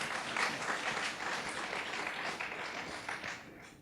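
An audience at a data science and engineering career panel claps for the panelists, a short burst of dense, moderately loud applause lasting a few seconds and fading slightly at the end.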